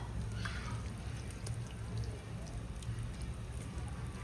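Ground pepper and cumin paste is poured into a pot of simmering rasam with a steady, soft, wet trickling and rushing that stays fairly quiet and continuous throughout.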